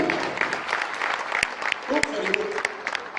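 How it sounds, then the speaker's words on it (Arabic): An audience claps for Reem, a newly appointed commercial director, at an Arvea company training session. The applause is a brief, dense patter of many hands, with a voice talking over it. "تصفيق على ريم"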